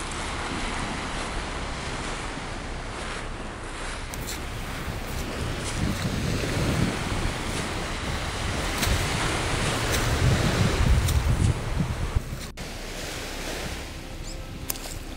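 Waves wash onto a beach in a continuous roar of surf, swelling louder toward the middle, with heavy wind buffeting the microphone throughout and no voices.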